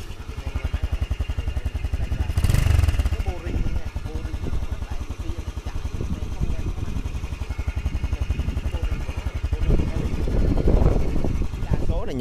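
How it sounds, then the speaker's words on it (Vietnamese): A Korean Daelim VS 125cc motorcycle with its original exhaust idles with a steady, even low chugging throughout, while someone talks over it. "Đó, anh em nghe máy nổ không? Máy đang nổ luôn anh em."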